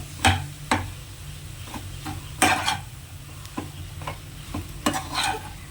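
Mashed potato mixture for aloo bonda is stirred in a pan, with a spoon scraping and knocking against the metal in irregular, close, sharp taps over a faint background sizzle.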